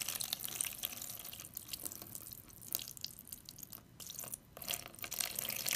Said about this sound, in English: Okay, we're pouring the water on.